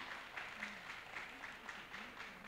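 Quiet applause for youth category award winners at an art event in Chiang Rai, a soft even patter of clapping heard from a distance with a faint voice underneath.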